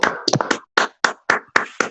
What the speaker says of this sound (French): C'est le moment de faire les applaudissements.